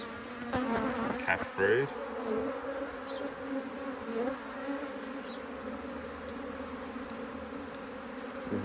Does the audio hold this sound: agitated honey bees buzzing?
yes